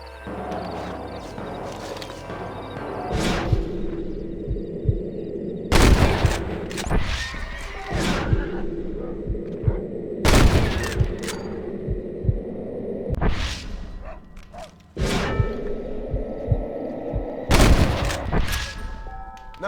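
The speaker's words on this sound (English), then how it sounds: "I bet you can't beat Ira Shelton in shooting" Repeated gunshots ring out in a shooting contest in Red Dead Redemption, loud booming reports at steady intervals over a constant low in-game hum and background ambience.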